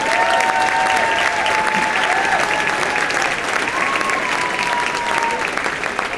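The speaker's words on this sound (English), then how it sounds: "Let's give these individuals a big round of applause for all the hard work and dedication with their students." An audience at a high school honor band concert claps in a sustained, even round of applause, loud and full throughout, with a few faint tonal whistles floating above.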